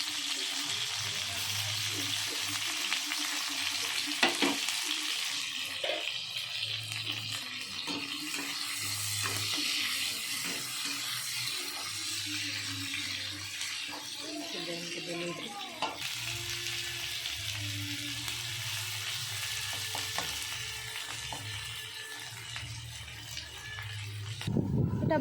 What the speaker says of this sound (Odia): ଏବେ ମୁଁ ପିଆଜ ଆଣ୍ଡ କ୍ୟାପ୍ସିକମ୍କୁ ଟିକେ ଫ୍ରାଏ କରି ଦେଉଛି।